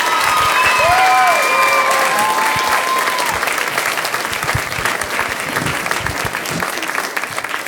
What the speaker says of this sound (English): another round of applause for all these fifth graders